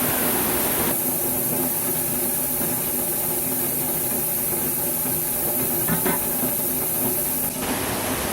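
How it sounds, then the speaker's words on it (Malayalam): Steady, loud steam hiss runs nearly unbroken, a pressurized jet of vapour building up as if a pressure cooker is about to whistle. "നിങ്ങൾ രണ്ട് സൗണ്ട് കേട്ടോ ഒന്ന് കുക്കർ വിസിലടിച്ചാണ് ഒരുങ്ങണത്"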